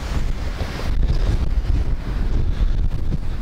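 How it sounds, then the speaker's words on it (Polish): Strong wind gusts buffet the microphone at an outdoor fishing spot beside the water, a loud, constant low rumble with fluttering surges and no voices. "ale wieje"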